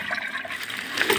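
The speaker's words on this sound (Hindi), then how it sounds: "पानी उठाने के लिए एक टीना लाए हैं, देखिए इसी टीना से उठाएंगे" A tin can scooping water makes a brief burst of sloshing and splashing, fairly loud and close, with no talking.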